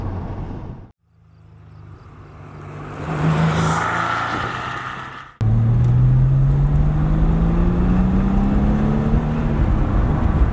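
A Porsche 911 4S Type 993 flat-six engine revs hard, drops briefly, then climbs again with a rising, throaty whine, loud and close.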